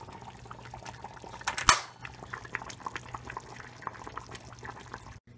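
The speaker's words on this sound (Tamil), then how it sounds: "தலதலன்னு கொதிக்குது." A pot of thick eggplant kara kuzhambu curry bubbles and simmers steadily, with soft popping blips throughout and a brief louder clatter near the start.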